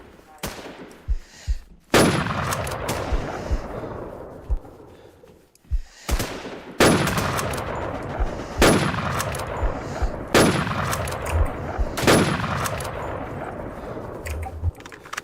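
Loud bursts of gunfire in the video game Warz Infestation crack repeatedly, some in rapid strings, with heavy echoing blasts and faint voices in between.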